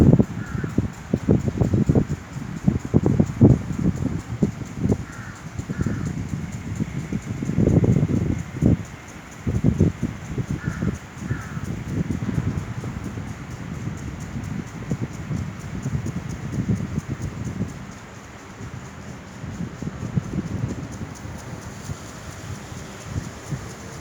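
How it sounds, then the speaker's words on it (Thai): Gusty wind blows through trees at Benjakitti Park, with leaves rustling continuously and louder gusts rising and falling over a long stretch, no voices present. "ลมพัดเย็นสบายมากครับ"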